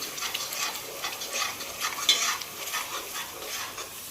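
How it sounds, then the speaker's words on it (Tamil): Ginger garlic paste and ground masala being stirred and fried in a pan for Hogenakkal-style fish curry, a continuous close sizzle with repeated scraping stirs, no talking. "இப்போ இஞ்சி பூண்டு பேஸ்ட்டு மசாலா எல்லாம் ஒன்றா மிக்ஸ் ஆகிற மாதிரி நல்லா கிண்டி விட்டுலே இருப்பேன்"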